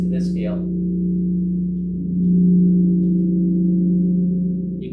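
A gong struck with a soft-headed mallet gives a smooth, sustained low hum that swells slightly partway through and rings on steadily, preceded by a brief faint sound at the start.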